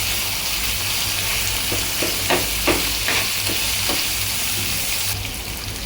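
Capsicum stir-frying in a pan of oil, a steady close sizzle with a series of scraping stirs in the middle, continuous throughout.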